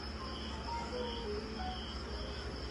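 Steady nighttime cricket chirping fills the background, a continuous high trill with faint low rumble beneath, no voices.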